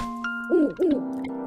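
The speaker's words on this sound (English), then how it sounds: "Sounds like our owl friend." The owl hoots in the video game Link's Awakening: a clear, loud two-part electronic hoot over a steady synthesized music tone, alone without talk.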